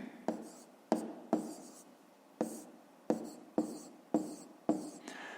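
A pen or chalk writes numbers by hand in a fifth-grade math lesson, giving a series of close, distinct taps and scratchy strokes about every half second, with no speech.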